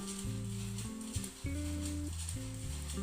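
Garlic, onion and curry leaves frying in a pan for mango rice, giving a steady, soft sizzling hiss that runs throughout beneath louder background music.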